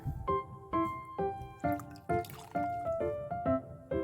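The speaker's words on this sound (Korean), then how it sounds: "불린 황태채에 물기를 짜고" Soaked dried pollack strips squeezed by hand in a home kitchen, water dribbling and splattering back down in a steady series of close wet drips and squishes, about eight separate bursts.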